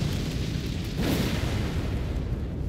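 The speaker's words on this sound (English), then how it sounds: "right trigger is a big explosion" A big explosion skill goes off in Elden Ring Shadow of the Erdtree, a loud, sustained rumbling blast with a swell of roaring energy partway through, with no talking.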